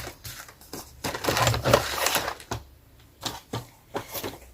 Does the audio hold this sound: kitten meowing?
no